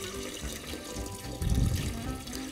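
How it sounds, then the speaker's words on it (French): Pond water pours steadily into a container in a continuous close splash and trickle, swelling briefly partway through, with no voices. "Et puis maintenant on n'a plus qu'à ajouter l'eau."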